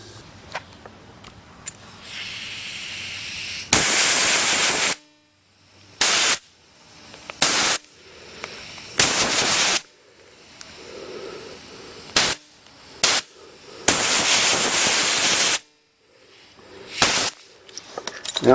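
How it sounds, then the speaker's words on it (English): Compressed air blasting through the fuel passages and tubes of an old clogged carburetor, heard as several loud hissing bursts of varying length with short pauses between them, close up and with no talk. "when I blow air through both ways, through here and through those fuel tubes, it'll clear the passageways out"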